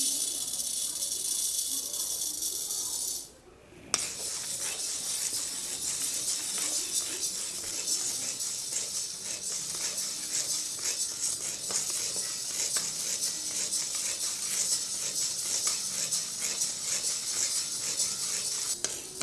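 Chana dal dry-roasting in a pan for curry leaf idli podi gives a steady, close hiss and rattle of lentils being stirred, broken only by a brief pause near the start.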